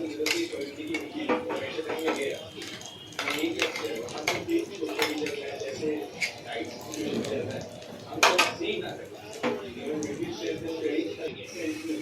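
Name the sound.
stirring mustard paste into sola kochu in a pan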